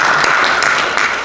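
A room at a church council executive committee meeting breaks into brief, dense applause as many people clap together for a short burst.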